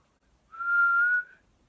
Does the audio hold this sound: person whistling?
yes